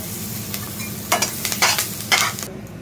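Cumin seeds mixed with a little black cumin, along with green chilli, sizzle loudly in hot oil, a dense frying crackle punctuated by several scraping stirs in the pan.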